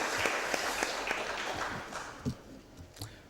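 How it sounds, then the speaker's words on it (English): Applause for Alderman Shane Cohn during a Board of Aldermen session: scattered, moderately loud clapping from a small room audience over a steady background hiss, tapering off after about three seconds. "So let's give Alderman Shane Cohn another round of applause."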